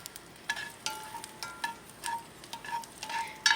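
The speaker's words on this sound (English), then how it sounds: "I am going to toss my little green beans in that pan. Just give them a little bit of a stir around." Green beans tossed and stirred in a hot pan on a barbecue grill, a soft steady sizzle broken by repeated light scraping and clattering stirs, close and fairly quiet, with no talking.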